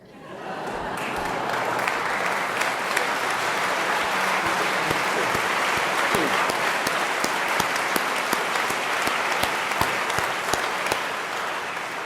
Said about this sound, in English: I thought you were going to clap.